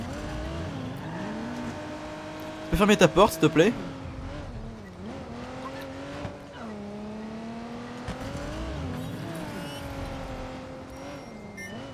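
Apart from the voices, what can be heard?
car driving with tires squealing, from the video game Watch Dogs 2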